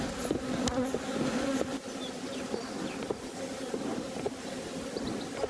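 Honey bees buzz steadily inside an opened hive box, a dense close drone with brief wing flicks and light wind rumble, no voices.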